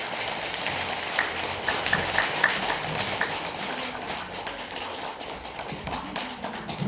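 Audience applause at a Lunar New Year lecture in a Buddhist temple hall, with a steady wash of many hands clapping that fills the whole stretch at an even level.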